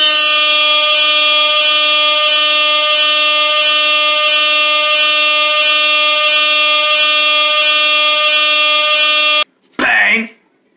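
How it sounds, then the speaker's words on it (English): A loud, steady air horn blares alone for over nine seconds, rich in harmonics, then cuts off and gives way to a brief burst of noise. "Do I got time for this air horn?"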